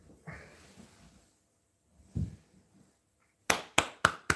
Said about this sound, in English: I am applauding with my butt cheeks right now